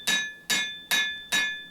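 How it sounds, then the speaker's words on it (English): Four evenly spaced ringing hammer blows on the spine of a steel cable Damascus knife blade, forged from wire rope at the forge, each strike sharp and metallic with a lingering tone, heard close and alone. "as I hammer out that spine"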